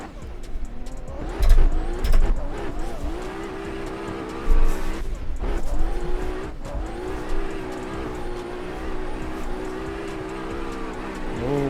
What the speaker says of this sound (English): so far the S15 sounds pretty nice